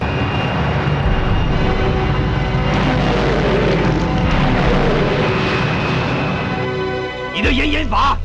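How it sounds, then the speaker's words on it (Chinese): Loud roaring engine of an airplane flying straight toward the viewer in a film scene, a dense sustained rumble that builds and then cuts abruptly near the end. "眼看飞机就要撞过来"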